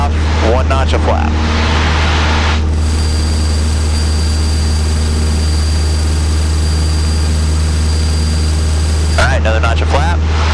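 Small propeller aircraft engine droning steadily at full power during stall practice with carburetor heat off and flaps set, a loud continuous hum filling the cabin throughout, with speech and intercom chatter near the start and end.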